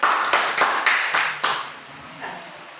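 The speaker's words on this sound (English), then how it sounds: "Let's give them a round of applause." A class claps for the winning team in a teaching session: about six loud, separate claps in an uneven rhythm, close by, then trailing off into a quieter room tone with a faint last tap.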